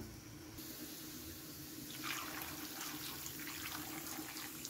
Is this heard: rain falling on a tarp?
no